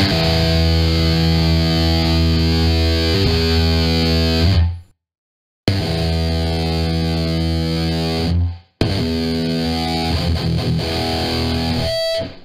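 Distorted electric guitar chords through a cab simulator emulating a tube power amp ring out in sustained blocks, each cut off abruptly by brief silence, with a thick, warm overdriven tone.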